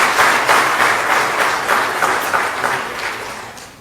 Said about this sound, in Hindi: तो एक बार जोरदार ताली बजाकर उनका